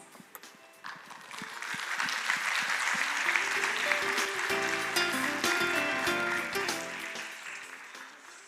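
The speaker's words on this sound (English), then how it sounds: "Please join me in welcoming Her Excellency with a very warm round of applause." A conference hall audience at the Jeju Forum 2022 opening ceremony breaks into a warm round of applause for the keynote speaker, swelling quickly into a dense, sustained clatter before tapering off.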